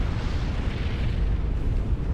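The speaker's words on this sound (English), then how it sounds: "Slow motion ACU explosion with a pan out." A commander unit (ACU) blowing up in the strategy game Supreme Commander: Forged Alliance, heard as a continuous deep, loud rumbling roar that holds steady throughout with no distinct separate blasts.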